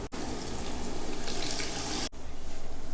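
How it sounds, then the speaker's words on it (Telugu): Water poured from a jar into a pot of chicken for gongura chicken biryani, a steady close splashing stream broken by a brief pause, with no voices. "జార్లో కొన్ని నీళ్ళు పోసి ఇలా పోసుకుందామండి"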